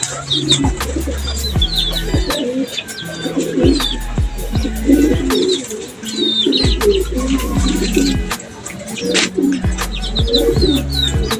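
Many pigeons in a loft coo in low, rolling throaty calls that overlap steadily, with soft chirps and occasional wing flutters nearby.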